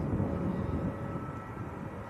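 Bombardier Global Express business jet, Maltese registered, at Manchester Airport, a steady broad engine roar at moderate distance holding fairly even throughout, with light wind rumble and no voices.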